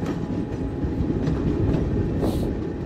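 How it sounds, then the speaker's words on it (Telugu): A train in an Indian train simulator video game rolls along with a dense, steady low rumble and faint clickety-clack of wheels, plus a brief higher screech near the end, no voices. "పెంబర్తిలో నుంచి మన ట్రైన్ బయలుదేరింది అన్న."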